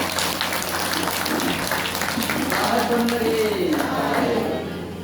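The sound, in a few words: audience applause for a young boy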